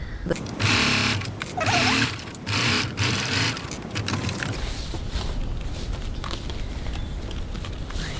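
Sewing machine stitching with a Teflon foot through clear material, bursts of running motor near and loud, then a steadier softer mechanical whir after the first half.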